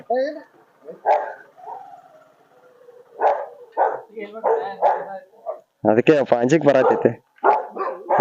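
Dogs bark repeatedly near a new house, sharp barks and yips scattered through loud nearby talk from several people.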